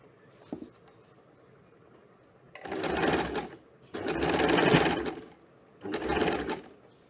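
A home sewing machine stitches elastic in three separate bursts of a second or so each, moderately loud with brief pauses between them, after a faint click.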